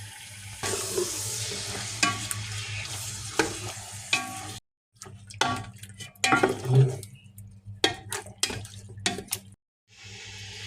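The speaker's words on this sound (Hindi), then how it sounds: "तो उसके बाद गोश्त डालेंगे। मैं अब इसमें डाल रहा हूँ, तो थोड़ा सा भून फिर मसाले डालते हैं।" Beef with ginger garlic paste fries in a pot for nihari, with loud bursts of sizzling and clattering stirring against the metal, broken by short silent gaps.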